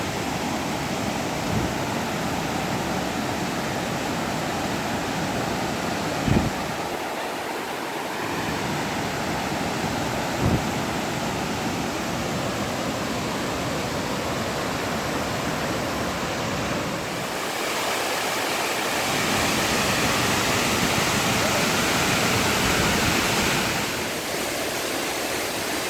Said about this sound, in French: Qui c'est qui est venu voir les cascades avec nous, à côté de Chiapas de Corzo?